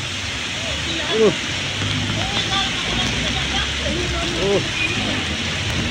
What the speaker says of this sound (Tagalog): Grabe ang lakas po ng hangin mga kagurusin. Dito po ay bumabagyo na.